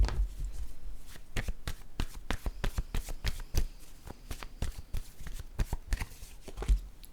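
Playing cards shuffled by hand at close range, a rapid irregular run of crisp riffles and slaps continuing steadily, with no talk over it.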